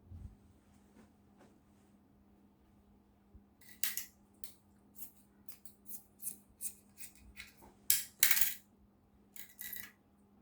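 Scissors snipping away excess fabric around the sleeve of a sewn cowl neck top, a quiet start followed by a run of sharp, irregular close cuts and rustles, louder toward the end, no talking.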